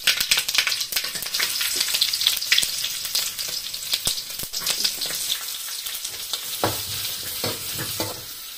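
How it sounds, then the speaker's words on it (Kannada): Mustard seeds splutter in hot ghee for a tempering, a dense continuous crackle and popping with sharp spits throughout, close and loud, with no talking. "ಸಾಸಿವೆ ಚಟಪಡ ಅಂತ ಹೇಳ್ಬೇಕು."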